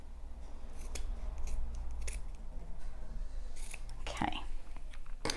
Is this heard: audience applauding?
no